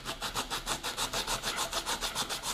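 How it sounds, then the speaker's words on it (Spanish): Rhythmic back-and-forth sanding on the plastic surface of a car MAP sensor, about ten even scraping strokes in a steady rhythm, close by with no talking. "Aquí nada más estoy lijando un poco"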